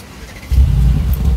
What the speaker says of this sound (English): So we'll do a cold start, shall we?